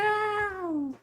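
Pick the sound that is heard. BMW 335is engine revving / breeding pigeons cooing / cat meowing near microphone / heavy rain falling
cat meowing near microphone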